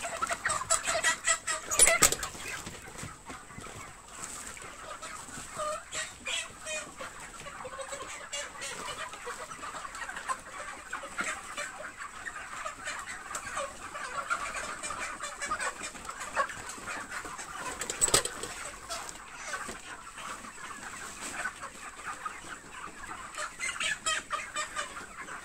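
Broiler chickens at harvest age, about 37 days old, fill a poultry house with dense, continuous clucking and chatter, with scattered sharper squawks standing out from the flock.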